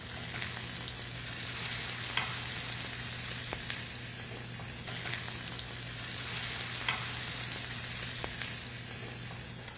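Tuna burger patties sizzle and fry steadily in a hot skillet, a continuous close crackle with occasional sharper pops and no talking.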